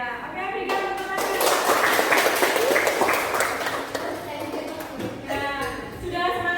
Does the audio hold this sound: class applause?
yes